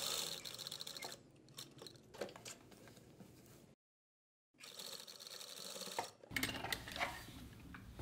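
A sewing machine stitches fabric strips together for a dupatta, its close, steady mechanical whir running continuously except for a brief silent pause partway through.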